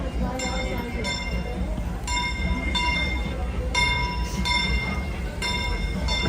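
A Disneyland steam train, engine number 3, Fred Gurley, rumbles in steadily with repeated bright metallic ringing tones, loud and close, while a voice talks faintly underneath.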